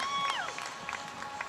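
A crowd cheers and applauds a front side 360 landed off a heel side approach at an intermediate marine wakeboard tournament at Fort Fremont, with shrill whistles and whoops over steady clapping and shouts.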